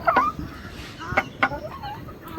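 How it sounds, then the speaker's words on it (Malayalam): An ornamental black chicken (Karinkozhi) gives a few short, quiet clucks at irregular intervals over a faint background hiss. "കരിങ്കോഴി"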